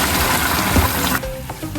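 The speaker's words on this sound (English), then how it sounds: "now we're going to add some water" Boiling water poured into a pan of cooking broad beans and onions, a loud hissing, bubbling rush that cuts off abruptly partway through, leaving quieter simmering and faint clinks.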